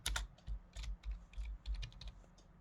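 Someone types C code on a computer keyboard, with a quick run of crisp, close key clicks in an uneven rhythm and no voices.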